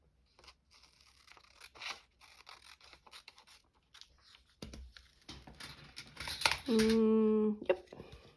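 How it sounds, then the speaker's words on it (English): Deckle scissors snip through paper in a quick run of short crunchy cuts and tearing rasps, close to the mic, with a brief spoken voice near the end. "Deckle scissors when you want to have something kind of jaggedy quickly."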